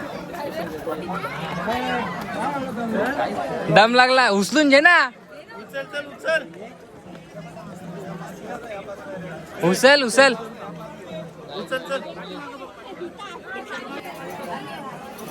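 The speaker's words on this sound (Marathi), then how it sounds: "गर्दी बी खूप आहे इथं रविवार आहे त्याच्यामुळं गर्दी" Sunday crowds at Jejuri temple make a steady background babble while nearby people talk and call out loudly over it in short bursts.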